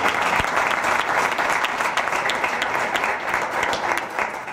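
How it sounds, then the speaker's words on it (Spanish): An awards ceremony audience applauds loudly and steadily, a dense wash of many hands clapping that carries on without pause from start to finish. "Pues nada, fuerte el aplauso."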